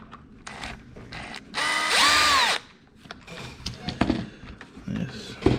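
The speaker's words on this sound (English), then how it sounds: "If you use power tools or anything like that, just make sure your torque's turned down low" A power drill backing screws out of an Imex Shogun RC car during a metal upgrade, with a single loud whirring burst of about a second amid small clicks and handling noises.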